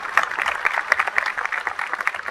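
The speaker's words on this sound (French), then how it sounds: "On peut les applaudir, s'il vous plaît." Steady applause from an audience at a gaming-convention conference in Toulouse, a dense, fairly close patter of many hands clapping continuously.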